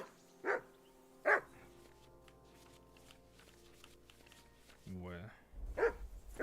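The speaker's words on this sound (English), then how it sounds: "whistle at that mutt of yours to stop barking" Game dog barks twice in quick succession near the start, then another yelp-like burst later, with music and speech around.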